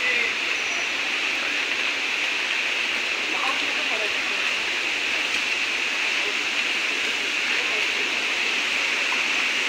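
Milkybar Waterfall on the Konkan coast near Mangaon roars with a dense, continuous rush of falling water, loud and steady throughout, with a few faint voices underneath.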